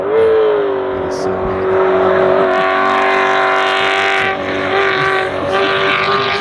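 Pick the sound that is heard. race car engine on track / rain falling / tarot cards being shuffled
race car engine on track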